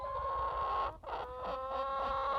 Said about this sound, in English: The chickens, you know, they're going through the pecking order thing.